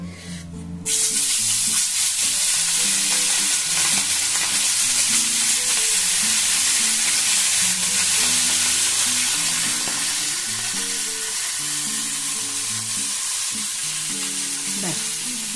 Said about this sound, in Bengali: চলুন কড়াইয়ে আমি একটু তেল দিয়ে দিই, এই সে মাছগুলো দিয়ে দিই